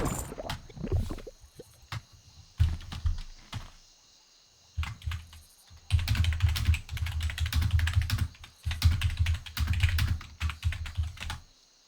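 Keys clatter in bursts on a computer keyboard, with quick rapid typing runs separated by short pauses, close and fairly loud with no talking.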